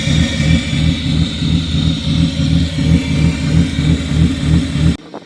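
A BMW E36 running after its M42 to M50 engine swap, a steady, loud, close engine idle with a pulsing low rumble that cuts off abruptly near the end.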